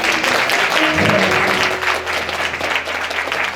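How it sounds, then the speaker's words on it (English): A church congregation claps hands together in loud, dense applause that holds steady throughout, with crowd noise underneath. "Somebody clap your hands."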